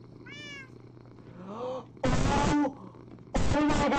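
A cat meowing in the Minecraft video game: several distinct meows, first a soft one, then a rising one, then two loud, close calls, with no talk over them.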